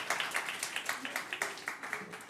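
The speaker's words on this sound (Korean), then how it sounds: "한번 박수하겠습니다" Congregation clapping together during a church worship service, a short burst of rhythmic group applause with sharp, evenly spaced claps over a couple of seconds, moderately loud and fairly close.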